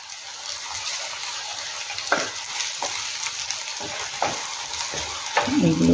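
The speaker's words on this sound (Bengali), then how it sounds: "এবার আমি বেগুনগুলো সব আমি ভেজে নিয়েছি," Eggplant pieces frying in hot oil, a steady close sizzle with a few sharp clinks and scrapes as pieces are lifted out, and a brief louder burst at the end.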